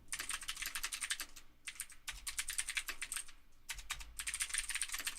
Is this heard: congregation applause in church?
no